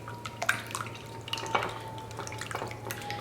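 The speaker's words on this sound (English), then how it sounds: "I have 5 whole eggs that I'm just going to whisk up" Five whole eggs are whisked in a shallow dish, giving quiet, irregular wet taps and clicks of a whisk against the dish over a low kitchen hum.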